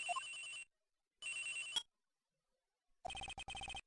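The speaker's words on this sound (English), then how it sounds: "At around 10:30, I received a call on my cell phone." A cell phone in a video game ringing in three separate electronic bursts, bright and clean with silent gaps between them, with no voices.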